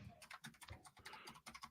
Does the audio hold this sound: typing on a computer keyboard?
yes